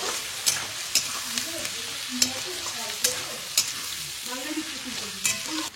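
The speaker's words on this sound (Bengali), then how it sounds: "দিয়ে দেবো এর মধ্যে আদার টুকরো গোটা আর রসুন 20টা মতো দিয়ে সবটাকে ভাজবো" Onion, whole ginger pieces and about twenty garlic cloves fry in a pan for spicy Punjabi chicken curry, a soft continuous sizzle broken by regular spoon scrapes and clacks roughly every second.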